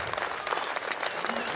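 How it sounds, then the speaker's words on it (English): A cricket crowd in Belfast applauds and cheers at a Test match between Ireland and Zimbabwe, with steady clapping across the whole stretch. "You can hear the delight in the crowd"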